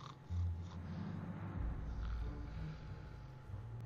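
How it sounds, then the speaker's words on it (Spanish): Faint, low rumbling snores drone steadily in a quiet space, soft and a little wheezy, in the video game 60 Seconds. "¿Por qué se escuchan ronquidos?"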